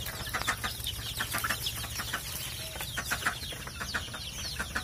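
Several chickens cluck and squawk in short, overlapping bursts close by, with a low hum underneath.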